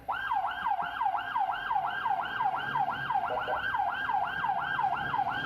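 Ambulance siren wailing in city traffic, a loud continuous up-and-down sweeping tone repeating steadily throughout, with faint road and engine noise underneath.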